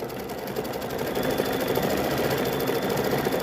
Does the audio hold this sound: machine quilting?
yes